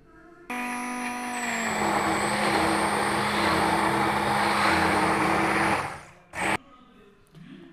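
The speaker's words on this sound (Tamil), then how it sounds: "பிளெண்டரில் போட்டு நல்லா பிளெண்ட் பண்ணி நம்ம எடுத்துக்கலாம்" A blender whirs loudly and steadily for about five seconds as it blends an ice cream mixture, then winds down, followed by a brief second pulse.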